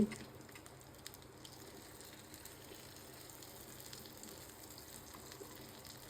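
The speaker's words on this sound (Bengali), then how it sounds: "আবার ভেজে দেখাচ্ছি উল্টা দিচ্ছি" Crispy beef tikka made from beef tripe fries in a pan with a faint, steady sizzle, a few soft clatters as pieces are flipped, quiet and close.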